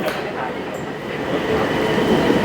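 Interior ride on Bangkok's Gold Line electric train at around 80 km/h, a steady rolling rumble and hum of the carriage with faint high-pitched tones above, continuous and close.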